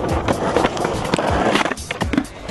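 Skateboard wheels roll and clatter over pavement with sharp board snaps and thwacks from tricks, close and busy.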